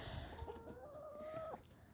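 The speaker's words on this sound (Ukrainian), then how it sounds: "покажу ще півників. Півників покажу" Roosters and chickens on a home farmstead give one drawn-out, tonal call lasting about a second and a half, fairly close and clear, then it cuts off, with no talking.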